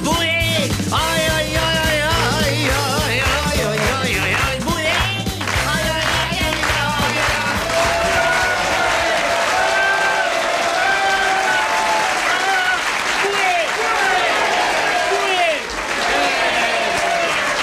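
Audience applause at a New Year's cabaret show, dense and continuous throughout, with a crowd clapping loudly and steadily. Music and voices mix in underneath.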